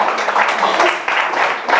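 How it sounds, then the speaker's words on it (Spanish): Congregation applauding in church, dense continuous clapping from many hands filling the room, loud and close throughout. "Denle un aplauso al Señor."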